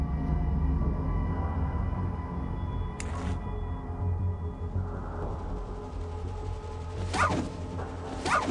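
A dog barks a few times near the end in the Fallout game, following steady in-game ambience and a brief swish earlier, with no talk over it.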